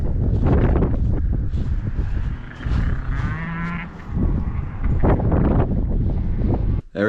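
Heavy wind roars and buffets continuously, with a low mooing call breaking through midway before the gusts surge again.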